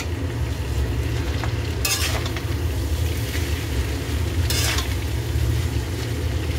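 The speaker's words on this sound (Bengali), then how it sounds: "আর ফ্রাইড রাইসের যে মশলাটা, সেই মশলাটা আমি এখানে ছিটিয়ে ছিটিয়ে দিয়ে তারপরে নাড়াচাড়া করবো" Fried rice being stirred with salt and spice mix in a hot pan: a continuous loud sizzle with two sharp scraping strokes of the spatula against the metal, no talking.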